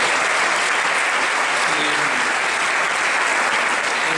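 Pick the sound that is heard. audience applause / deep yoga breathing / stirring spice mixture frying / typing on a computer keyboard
audience applause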